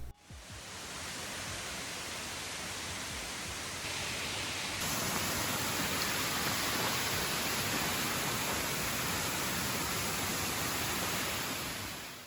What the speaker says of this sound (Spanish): Ahí les dejo un poquito el sonido de la cascada de fondo para que lo puedan disfrutar también.